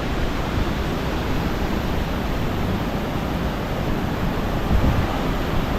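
Heavy pouring rain at the flooded Khlong Lan Waterfall forms a dense, steady roar of rushing water, loud and close, unbroken for the whole stretch with no voices.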